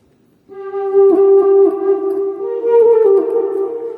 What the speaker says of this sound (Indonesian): Ini suara classical flute-nya nih.